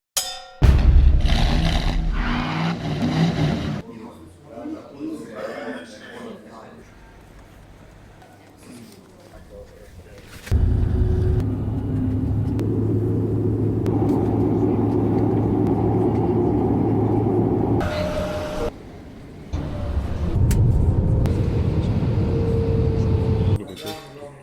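A Toyota Prius plug-in hybrid is driven in Barcelona, giving a steady, loud cabin and road rumble that runs continuously through the second half, with people talking over the start and briefly dropping out near the end.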